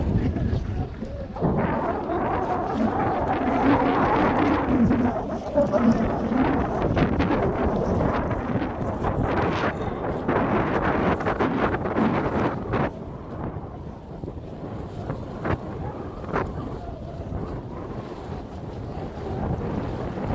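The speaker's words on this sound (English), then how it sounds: "You can really hear it. The wind is starting to pick up a little bit." Wind rushes across the microphone on a J9 sailboat on Lake Perry, a continuous loud roar with gusty surges and faint water slaps against the hull, no voices.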